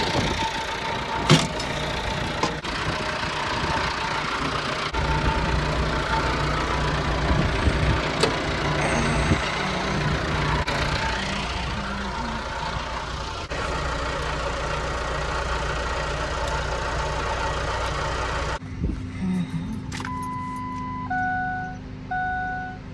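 Ranch truck engine running after a jump-start from a backhoe, a steady close idle rumble with occasional knocks and clanks, cutting off near the end as faint beeping tones follow.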